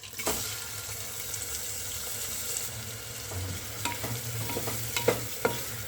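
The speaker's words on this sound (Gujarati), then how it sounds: "તો આપણું તેલ ગરમ થઈ ગયું છે હવે તેમાં ડુંગળી એડ કરી દઈશું" Steady low sizzle of onions frying in hot oil, with a few sharp scrapes and clicks of stirring toward the end.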